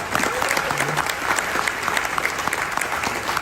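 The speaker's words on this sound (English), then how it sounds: "Give yourselves a round of applause for being unstoppable." Audience applause fills a live storytelling event, a dense, steady wash of many hands clapping at once that holds at a constant level throughout.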